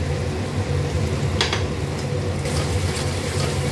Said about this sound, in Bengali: ভালো করে আমি এটা কষাবো।